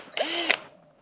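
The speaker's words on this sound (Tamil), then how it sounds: "இந்த 1 இன்ச்சு பட்டையில் 2 இடத்துல நான் ட்ரில் பண்ணி ஓட்ட போட்டுக்கிறேன்." A power drill bores holes through a one-inch iron strip, a loud, steady whine lasting about half a second with a sharp burst at the end, then quiet and a brief click.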